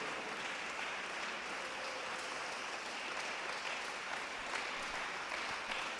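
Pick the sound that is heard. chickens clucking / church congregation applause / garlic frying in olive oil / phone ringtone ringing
church congregation applause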